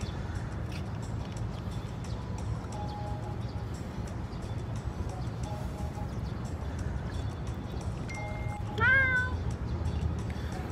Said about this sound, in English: Yo, there's a black cat right there.